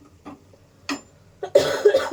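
A person coughs several times close up, short separate coughs that grow louder and rougher toward the end, with no speech.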